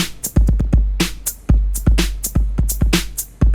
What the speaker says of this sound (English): So all those sounds you're hearing there are actually the inbuilt samples in Dubler 2